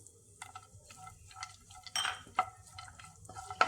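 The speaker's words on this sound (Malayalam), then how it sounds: "ഇതെല്ലാം ഒന്ന് മൂപ്പിക്കാം." Chopped almonds and cashews fried in ghee while being stirred in a pan for a Kerala wheat ada recipe: soft sizzling under repeated scraping, clinking stirs, close and moderately quiet.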